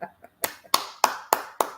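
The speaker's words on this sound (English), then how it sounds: "Hand clap for that." Hands clap six times in an uneven then steadier rhythm, sharp close slaps following two softer lighter taps at the start, with no talking over them.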